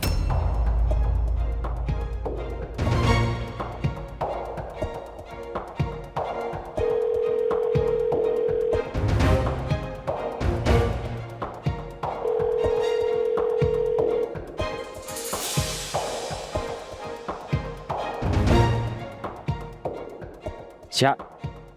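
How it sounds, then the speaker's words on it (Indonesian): Telephone ring tones repeat in a drama scene as a call goes unanswered, two steady sustained tones heard clearly among other sounds, with talking in between. "Sya, Mesya, angkat telepon gua dong"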